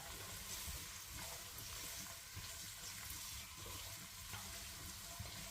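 Vegetables sautéing in a pan for chicken manchow soup give off a steady, soft sizzle and crackle, with faint clinks of stirring throughout.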